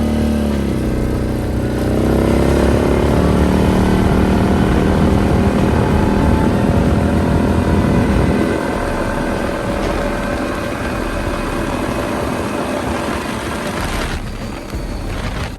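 A 1000cc mud four-wheeler engine runs loud and close, its steady roar shifting in pitch as the revs change early on, then settling into a constant drone until the end.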